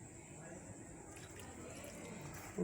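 Water trickles in small amounts into a chicken pakora batter of gram flour and spices, a soft, steady liquid splash at low volume that runs alone for the whole stretch.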